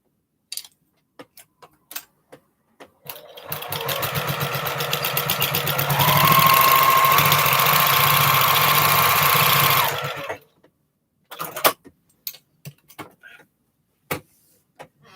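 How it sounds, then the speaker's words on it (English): A sewing machine runs a quarter-inch seam on quilt pieces in a steady whirring, rapid stitching burst of about seven seconds, rising slightly in speed, framed by scattered clicks and handling taps before and after. "And come in and run a 1/4 inch seam."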